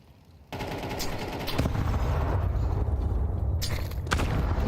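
Counter-Strike: GO match audio with grenade booms and bursts of rapid gunfire, a dense, loud mix of thuds and cracks that rises after a quiet opening and keeps going with sharp shots layered over a low rumble.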